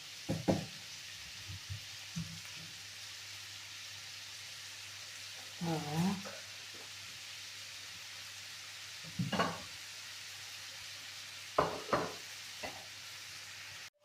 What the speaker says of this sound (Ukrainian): М'ясо у мене смажиться